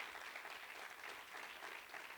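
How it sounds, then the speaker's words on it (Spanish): A church congregation claps for the Lord during a sermon, a dense, steady wash of applause heard at a distance and fairly faint, with no talking over it. "Dele fuerte ese aplauso al Señor."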